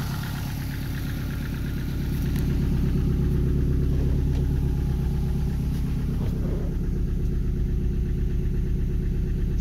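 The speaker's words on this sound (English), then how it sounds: "It's idling just fine." A car engine idles steadily, slightly smoky, a low even rumble with a faint rhythmic knock that swells slightly after a couple of seconds and then holds.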